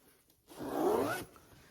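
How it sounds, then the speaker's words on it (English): A single zipper pulled closed on a small fabric pouch holding an AA battery pack for a lit snowman decoration, one smooth close rasp lasting under a second, with quiet room around it. "Zip it up, turn it on, you know, and zip it up."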